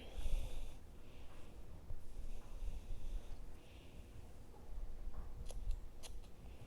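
Scissors snip yarn close by, a few soft quick cuts near the end over quiet rustling and handling noise while crocheting a scarf.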